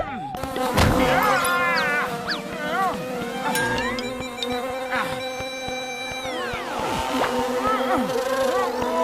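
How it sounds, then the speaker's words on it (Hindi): Cartoon bees swarm around a beehive, their buzzing heard as high, whining, pitch-sliding drones that swoop and overlap against a steady background music tone, loud and continuous throughout. "छत्ता, मधुमक्खी का छत्ता।"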